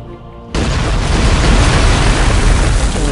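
An explosion in the strategy game Cossacks 3, in a match as England against five AI opponents: one sudden heavy boom after a short lull, followed by a loud, sustained rumbling roar that doesn't fade.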